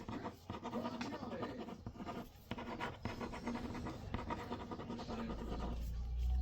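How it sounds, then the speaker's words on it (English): Pen writing a name three times on a sheet of paper for a spell ritual, a steady close scratching and rubbing that runs throughout, with a low rumble rising near the end. "you're going to write your name on it 3 times."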